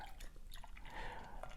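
Old Rasputin stout poured into a glass, a soft, close liquid splash and trickle with faint dripping over a steady low background, brief and moderately quiet.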